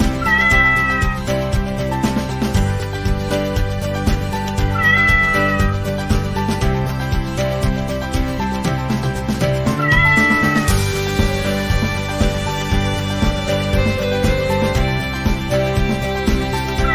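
A cat meows repeatedly over music, with short, clear mews recurring every few seconds throughout.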